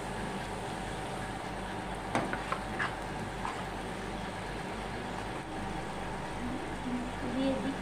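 Pointed gourd (potol) curry for Potol Moharani sizzles steadily in a pan after a little water is added for frying down the masala, a continuous close hiss with a few brief utensil clinks partway through.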